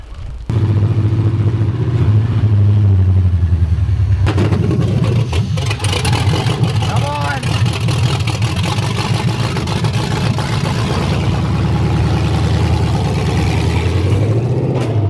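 A V8-swapped BMW E36 drives on a street, its engine starting with a loud rumble and holding a heavy, steady drone with revving swells throughout, no talk.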